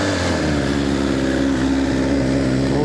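BMW S1000XR motorcycle engine idling just after a cold start, a loud, close, steady high idle with a throbbing tone and no speech.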